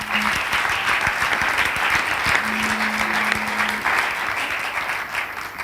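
An audience at a studio broadcast about malaria breaks into sustained applause, a dense, even roar of clapping hands that holds steady throughout, with a faint tone briefly underneath.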